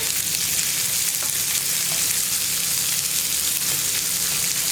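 Sliced onion frying in a hot pan while a cauliflower theeyal curry is being made gives a steady, loud, dense sizzle that runs unbroken from start to finish, with no voices.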